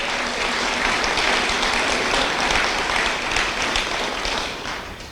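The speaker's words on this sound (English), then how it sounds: "can we give one more round of applause for Megan LeVota, Phil's niece" Sustained applause from an audience at a county executive's swearing-in ceremony, a dense, loud wash of clapping that holds steady for about five seconds before beginning to taper off at the end, with no voices over it.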